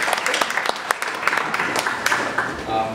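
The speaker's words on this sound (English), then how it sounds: "let's do a quick round of applause" An audience at a city council candidates forum in a restaurant gives a brief round of clapping, scattered and moderately close, with talking running through it.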